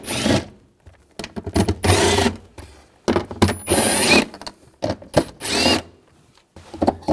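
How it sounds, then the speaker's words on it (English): Power tool spinning off the four 10mm cover nuts with a socket on a 2007-2013 BMW X5 3.0L L6 during fuel transfer unit replacement: several short, close whirring bursts separated by brief pauses. "There's 4 nuts. Use a 10mm socket."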